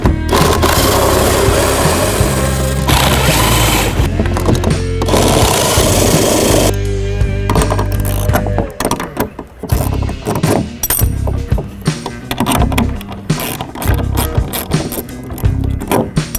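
Power driver backing screws out of a wooden shipping crate to loosen a strap, loud whirring bursts with ratcheting, clattering mechanical noise, dense for the first half then broken into shorter choppy runs.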